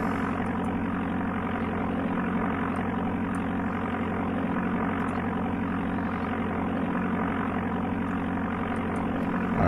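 Continuous droning propeller-aircraft engine from the Amiga game Flight Simulator II, a steady, unbroken buzzing hum at even loudness with no voices over it.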